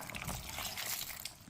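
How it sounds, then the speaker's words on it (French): Water trickles and splashes softly as it is poured into a pot of okra sauce ingredients, a faint continuous stream. "Et ensuite, je rajoute juste un peu d'eau."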